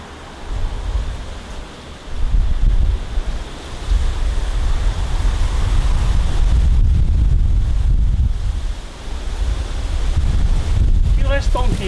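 Strong wind buffets the microphone outdoors near the sea, rumbling loudly in surges over the sound of surf, with a lull around the middle and short bursts of voice near the end.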